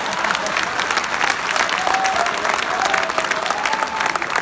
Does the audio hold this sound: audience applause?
yes